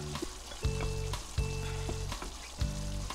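Cooked rice tipped into a hot pan for arroz valenciana sizzles loudly in three strong bursts, each new addition flaring into a bright frying hiss that settles into steady crackling, close and with no talk.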